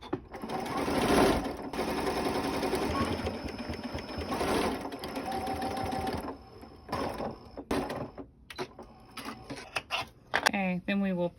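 A sewing machine stitches quilting fabric in a fast, close mechanical whir that runs for several seconds, then stops and restarts in shorter bursts, with a person talking at the end.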